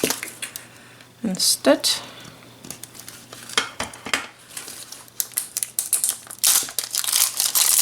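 Scissors or a blade working through a plastic mini fashion ball toy, with crinkly crunching and squishing bursts of rigid plastic, close and fairly loud, while a person talks over parts of it.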